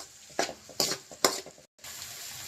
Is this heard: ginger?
yes